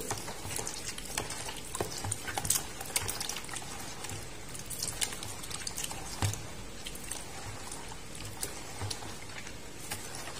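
Pempek-style dough mixed with egg white in a bowl, a continuous soft wet stirring and slapping with irregular clicks of the utensil against the bowl, close and fairly faint.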